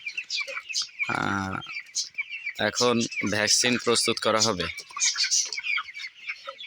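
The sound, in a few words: chicks chirping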